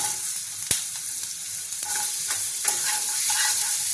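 Onion sliding into hot oil with cashews and garam masala for Bengali-style chicken butter masala, a steady close sizzle with a sharp clank of the spoon and scraping stirs every so often.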